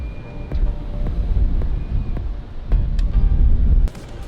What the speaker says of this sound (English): My only real concern right now is that there's a little bit of wind.